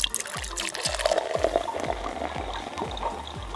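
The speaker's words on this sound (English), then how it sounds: "I've got a small vial of water filled and ready to go, so let's fill up top." Water pours from a small vial into a toy dinosaur creator kit, a close, steady trickle with faint rhythmic gurgling bubbles over about three and a half seconds.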